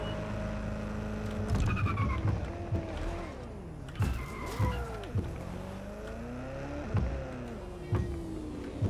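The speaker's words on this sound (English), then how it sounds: "it sounds like it's a muscle car, but it's electric" An electric car in Watch Dogs: Legion revs up through repeated gear changes like a muscle car, its engine tone climbing and dropping again and again, with occasional tire noise.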